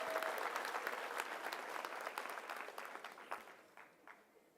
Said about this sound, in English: Let's give a round of applause to these people for supporting our graduates.